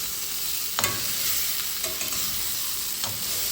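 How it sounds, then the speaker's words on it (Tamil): Egg thokku in a pan is gently stirred, with a soft, steady sizzle of frying running throughout and a few light scrapes of the spoon against the pan. "மெது மெதுவாக அப்படியே பருத்தி விடணும் உடஞ்சிடாமல் பருத்தி விடணும்"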